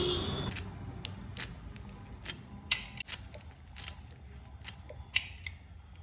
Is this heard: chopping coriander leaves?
yes